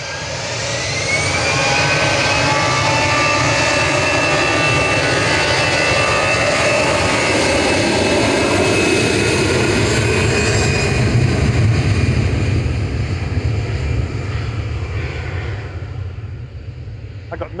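A jet airliner departing Manchester Airport for Malta thunders loudly overhead, its engine roar swelling in over the first two seconds, holding strong with whining tones, then easing slightly toward the end.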